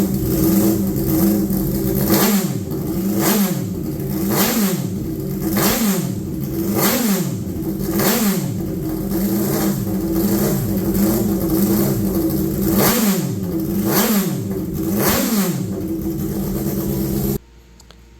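Race car engine revving repeatedly in a shop, a loud close series of about a dozen rising and falling throttle blips in steady rhythm, ending abruptly.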